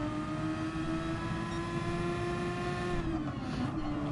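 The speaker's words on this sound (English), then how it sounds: "Mikhail revving his car out" Race car engine revving in a racing video game, a steady loud droning tone with a slight pitch dip near the end, no talk.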